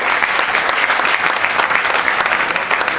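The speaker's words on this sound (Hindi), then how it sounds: "जोरदार तालियां अनिल भैया के लिए" Loud, dense applause from a seminar audience at a sales training event, steady and continuous throughout with no break.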